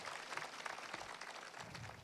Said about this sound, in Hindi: एक बार पूरा सदन दोनों हाथ ऊपर उठाकर मुझे तालियां बजाकर अनुमति दीजिए